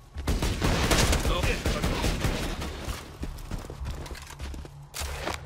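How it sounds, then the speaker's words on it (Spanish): Enemies firing guns in the Borderlands 2 video game, a dense barrage of overlapping shots that is loudest early on and then thins into scattered bursts, with a voice faintly under it. "y ya me están disparando todo el mundo"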